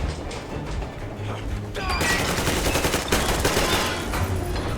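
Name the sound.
gunfire in video game Metro Exodus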